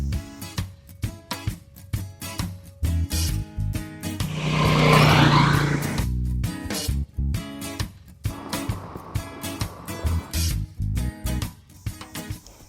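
Moto Guzzi MGX21 Flying Fortress bagger motorcycle being ridden: engine revs rise and fall in a series of throttle blips, with a louder, rushing sustained pass in the middle, heard fairly close.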